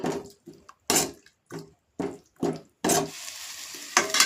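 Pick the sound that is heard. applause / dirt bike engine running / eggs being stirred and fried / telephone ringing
eggs being stirred and fried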